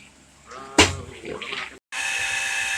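Irregular splashes and sloshing give way to a steady, rushing flow of spring water welling up in a dug well, continuing without pause.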